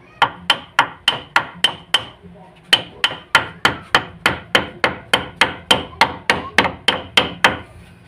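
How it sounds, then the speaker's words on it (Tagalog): Gentle hammer blows drive a wooden solid panel door into place: a steady run of sharp, evenly spaced knocks, a brief pause, then another long regular series, loud and close with no talking. "Pupukpukin lang po natin ang dahan-dahan siya"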